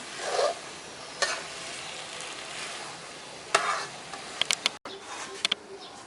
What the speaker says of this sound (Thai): อันนี้ก็ผัดไปเรื่อยๆนี่ต้องใช้พลังเยอะพอสมควรเนาะ